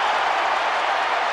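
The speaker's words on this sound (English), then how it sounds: "Gets through another session and gets a standing ovation." Boxing crowd rising for a standing ovation for Joshua Clottey, a dense, even wash of applause and clapping that fills the whole moment without pause.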